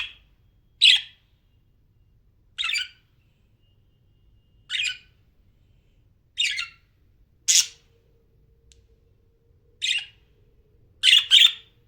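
A bird squawks loudly and sharply about eight times at irregular intervals, with near silence between calls.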